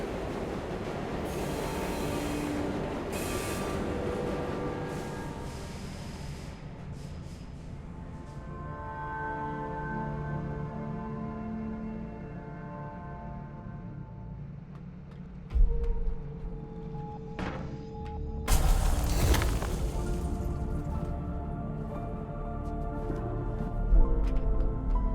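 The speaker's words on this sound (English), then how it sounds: "The night train." Night train at the end of the line in the sci-fi video game Luna Abyss: a steady rolling rumble with tonal hum and metallic squeal, then heavier clunks and braking bursts toward the end, loud and close, with no talking.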